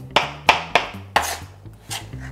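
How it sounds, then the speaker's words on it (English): A knife chops tomatoes on a cutting board for a taco recipe, with four sharp close chops in quick uneven rhythm followed by a few softer taps. "I think I might give this just a little bit of a chop."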